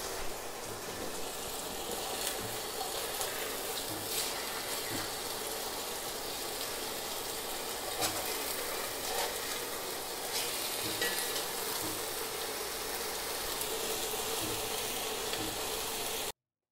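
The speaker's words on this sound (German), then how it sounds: "ich lasse es jetzt so ein bisschen anbraten, sodass ein bisschen Röstaromen entstehen" Steady, dense sizzling of food browning in a pan for Algerian chorba baida soup, a continuous crackle with occasional small pops, no voices.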